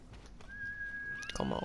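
A horse's whinny in the video game Ghost of Tsushima rises over steady background noise, with faint hoof sounds, brief and fairly close.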